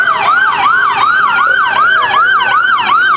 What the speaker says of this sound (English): And here we got the sirens.